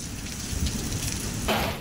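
Rain falls steadily in Motihari, Bihar, a broad continuous wash of patter with a brief louder splash near the end and no voices over it.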